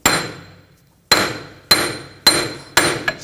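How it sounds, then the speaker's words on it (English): Sharp metallic hammer blows on a punch driven against the front axle of a 2000-2006 BMW X5 to free it from the hub, four loud close strikes roughly half a second apart, each with a ringing decay, no talk. "Using a punch, I'm just going to give it a tap, try to loosen up the axle from the hub"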